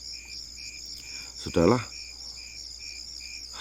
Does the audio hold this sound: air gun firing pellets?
no